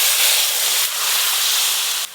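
Water from soaked kasundi mustard sauce is poured into hot mustard oil with tempering spices and a dried red chilli, giving a loud, continuous sizzling hiss that surges once midway and drops off at the end.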